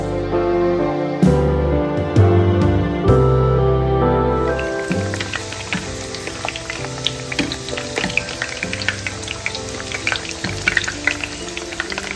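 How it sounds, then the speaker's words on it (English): Nippattu, a crispy rice-flour snack, frying in hot oil: a dense, steady sizzle and bubbling that grows busier after the first few seconds and carries close and loud with no talking. "The oil is hot now. Let's fry till crisp."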